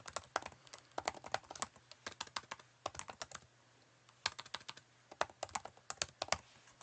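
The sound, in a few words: typing on a computer keyboard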